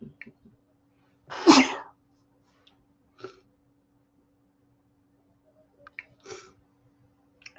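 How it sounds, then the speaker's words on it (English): A single loud, close sneeze from an adult indoors, followed by a few faint clicks and small breaths against a low steady hum, with no other talking. "I might sneeze."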